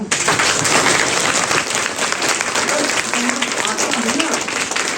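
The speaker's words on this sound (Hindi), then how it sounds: "फिर ताली क्यों नहीं बजाया?" An audience at a spiritual talk claps together in a dense, steady burst of applause lasting a few seconds, loud and sustained, with a voice faintly over it.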